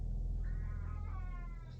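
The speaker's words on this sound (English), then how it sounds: "Yes, that was my cat." A house cat gives a single drawn-out meow, faint and fairly close, over a steady low rumble.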